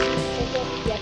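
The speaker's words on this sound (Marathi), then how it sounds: "पाऊस देखील सुरू झालेला आहे" Rain falling steadily outdoors at a farm during rice planting, a dense hissing patter with a few louder drops, close and continuous.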